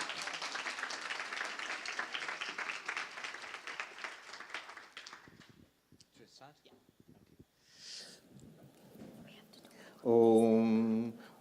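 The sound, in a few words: audience applause at spiritual conference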